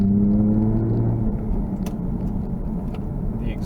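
2016 Jaguar F-Type coupe with a manual gearbox and its exhaust system open, giving a deep, throaty engine drone that is strong at first, then eases into a steady lower rumble while driving down a road.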